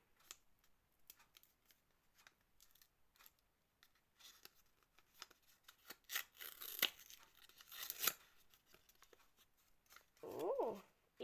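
Paper surprise packet being opened, with faint rustling and crinkling that builds into louder tearing bursts, then a brief voiced sound near the end.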